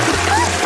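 A toilet being flushed in a home bathroom, a steady watery rush and splash running through the whole short moment at close range, with a voice faintly underneath.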